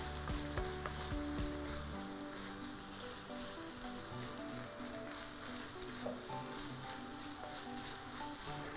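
Minced meat sizzles and crackles steadily in a hot pan, a dense close frying hiss that continues throughout with faint stirring scrapes.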